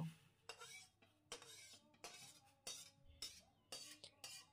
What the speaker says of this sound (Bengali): এবার সিমাইগুলো দুধের মধ্যে ঢেলে দেব।